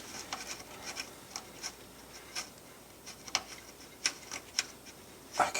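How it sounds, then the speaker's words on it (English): A socket wrench on bolts of a neutral safety switch in a Nissan Frontier, with faint, sparse metallic clicks and small ratcheting ticks scattered irregularly over quiet background. "it's just putting on the 3 bolts. Just using the socket to try to get it on there"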